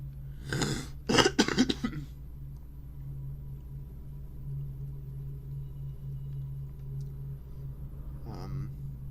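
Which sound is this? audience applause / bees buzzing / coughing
coughing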